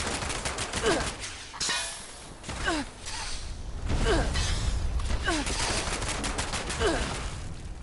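Rapid gunfire from Fallout 76 rattles in dense bursts that keep going almost without pause, with mechanical clicks and creaks mixed in, loud and near, and a voice speaking briefly over it.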